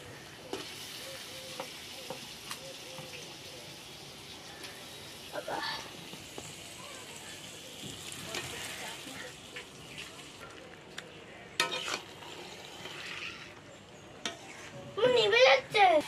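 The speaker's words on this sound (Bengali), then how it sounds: "আমি একটু নাড়িয়ে কষিয়ে দিই" Chicken is stirred and fried in a pan, a low sizzle broken by scraping stirs and clattering knocks, growing busier toward the end, with voices talking now and then.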